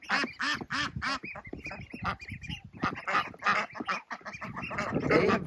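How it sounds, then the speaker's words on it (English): Indian runner ducks on a farm quack in rapid, overlapping bursts, a busy nearby chorus of nasal calls that runs continuously throughout. "Those are the Indian runner ducks on the right."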